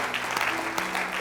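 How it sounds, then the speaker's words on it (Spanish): A church congregation applauding in praise of Jesus, with a short burst of steady clapping and a voice heard underneath. "Dale un aplauso de alabanza a Jesús"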